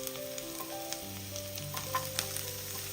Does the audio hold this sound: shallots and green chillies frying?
yes